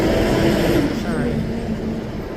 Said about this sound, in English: That was a waste truck going by very loud.